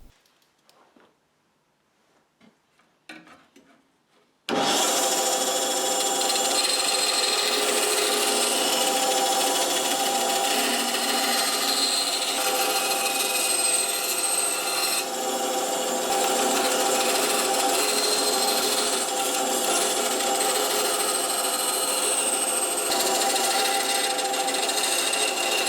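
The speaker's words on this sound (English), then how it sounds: "we'll just get this to the bandsaw and quickly cut off the bulk of the excess" After a few faint knocks, a bandsaw starts up and runs steadily, cutting excess wood veneer from a guitar headstock with a loud, continuous whirring rasp for over twenty seconds.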